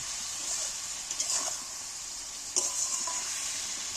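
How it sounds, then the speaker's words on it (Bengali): Ground spices sizzle and hiss in hot oil in a pan, a steady bright frying noise broken by a few stirring scrapes and clicks, with no talking. "এবার আমি যে মশলাগুলো দিয়েছি মশলাগুলো ভালো করে কষিয়ে নেব"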